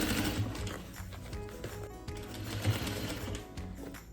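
A sewing machine stitches bias binding onto a silicone pouch, running in a fast, steady mechanical rhythm close up, with brief changes in pace and no speech.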